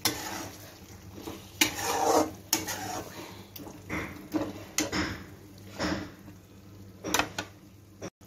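Paneer stirred into tomato masala in a pan, with irregular scraping and clinking of the spoon against the pan that stops and starts for several seconds, close by with no talking.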